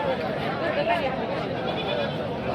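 A goat bleats amid the steady crowd chatter of a busy goat and billy-goat market in Sangola, Maharashtra, with voices talking throughout.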